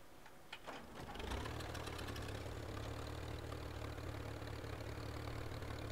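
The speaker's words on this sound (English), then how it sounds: "It's a tractor." A tractor engine in the video game Teardown starts up and settles into a steady, loud idle with a low, even rumble, heard alone without talk.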